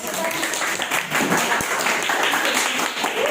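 A classroom group claps for group 3 after a dance lesson presentation, a short burst of scattered, fairly close hand clapping with a brief sharp tap midway and faint voices.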